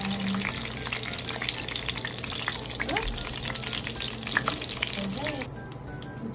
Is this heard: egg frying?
yes